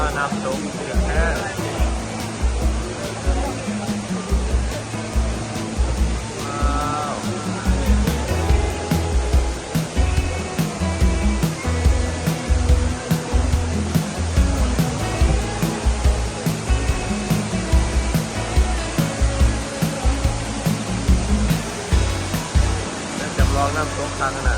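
A waterfall in a garden in Singapore gives a constant, loud, broad rush of falling water throughout, with voices talking over it.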